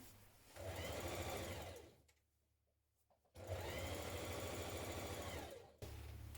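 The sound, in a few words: sewing machine stitching skirt lining side seams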